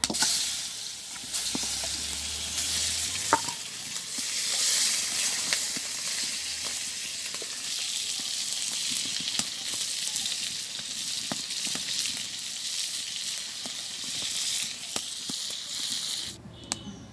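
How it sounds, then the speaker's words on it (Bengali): Hilsa fish pieces frying in a pan in a village kitchen, giving a continuous close hiss and sizzle with small spatters and a stir or two. "তো আমার এই মাছগুলো ভাজি হয়ে গেছে"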